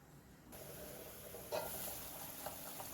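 Fish pieces dropped into a boiling roasted-coconut curry paste for Kerala fish curry, a steady low bubbling hiss that jumps briefly as the fish goes in, then keeps simmering.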